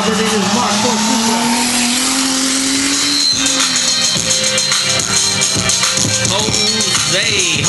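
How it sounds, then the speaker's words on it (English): A Toyota Mark IV Supra races on a motorsports park track, its engine note rising and shifting as it passes, loud and continuous with a voice talking over it. "Robert in his Mark IV Supra."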